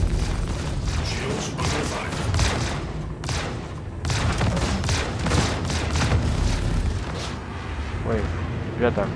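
Spacecraft cannon fire in the video game Star Citizen: rapid bursts of booming shots in a dogfight, repeating in clusters with short gaps, under someone talking over the action.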